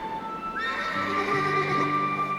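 Frightened horses neigh in a loud, shrill, quavering whinny that swells and overlaps with a second lower neigh, heard close with a faint hum beneath.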